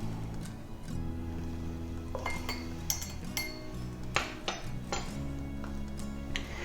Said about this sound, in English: I like to give this one a little bit of a good stir